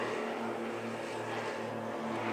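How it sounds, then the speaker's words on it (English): A large plane passes overhead outside a window, a steady broad engine roar with a low humming tone, continuous and fairly loud, with no talking. "Oh, and there goes a giant plane."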